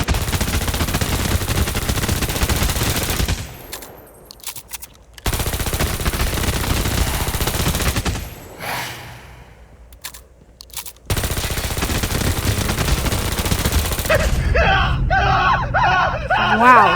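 Bursts of pistol gunfire in a Call of Duty Mobile zombies match come in three long, dense volleys separated by brief lulls, with game noise and a voice talking over the later stretch.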